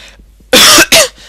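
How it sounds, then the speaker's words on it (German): A person gives two hard, loud coughs in quick succession, close to the mic, after a short quiet pause with faint breathing. "Mal muss ich schon noch husten, aber das ist selten"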